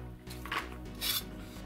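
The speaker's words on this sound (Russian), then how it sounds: "Давайте вот на 4 части разрежем луковицу." A kitchen knife slices a small onion into quarters, with two short, crisp cuts against a board heard up close, and no one speaking.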